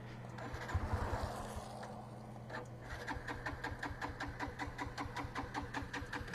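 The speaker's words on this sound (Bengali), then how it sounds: "এখন বাইকটা স্টার্ট নিলে হয়।" A Hero Xtreme 125R motorcycle engine cranks and catches, then settles into a quick, even putter of firing pulses, heard up close.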